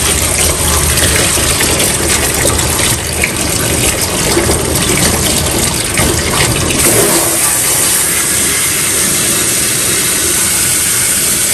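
Water rushes steadily from the faucet of a Shernbao electric pet tub, a loud continuous gushing stream that carries on without pause, with no voices.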